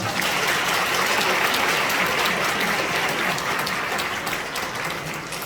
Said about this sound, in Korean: 오늘 박수로 맞이하겠습니다